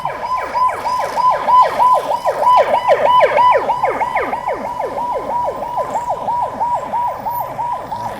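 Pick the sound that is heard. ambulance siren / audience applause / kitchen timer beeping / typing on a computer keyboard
ambulance siren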